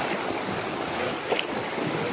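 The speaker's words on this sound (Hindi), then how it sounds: "पानी की स्पीड देखें आप" Fast, fast-flowing floodwater rushing past outdoors during a motorcycle trip, a loud continuous broadband roar with wind buffeting the microphone and no talking.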